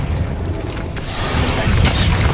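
Incendio fire spell cast in Hogwarts Legacy, a steady roaring, crackling burst of flame that swells louder toward the end.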